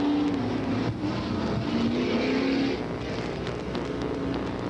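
Late model super stock race cars drive a track during a 1993 feature event, a steady loud engine roar with droning tones that shift in pitch as the cars pass.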